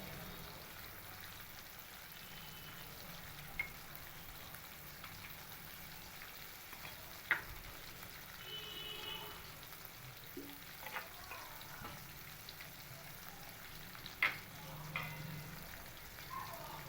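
Pomfret fish frying in a pan, a soft, steady sizzling hiss throughout with a few brief louder pops and crackles, fairly quiet and without voices.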